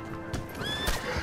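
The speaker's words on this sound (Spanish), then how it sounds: "Oye, mi caballo es que está tonto, ¿o qué?" A horse whinnies in a video game, a short high neigh rising over a background of clip-clopping hooves and game ambience, loud and close.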